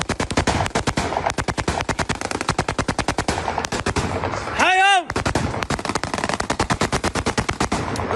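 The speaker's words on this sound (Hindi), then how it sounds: "देखिए इन गोलियों की तड़तड़ाहट को आप सुनिए।" Rattle of gunfire in Damascus during the Syrian civil war, long rapid bursts of automatic shots, loud and continuous, broken briefly by a sweeping tonal whine.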